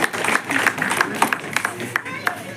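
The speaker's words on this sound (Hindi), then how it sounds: "एक बार तालियों से बाबू जी का स्वागत कीजिएगा" Audience at a public gathering clapping to welcome an honored elder, a dense patter of hand claps from a modest crowd, fairly close and steady with uneven bursts.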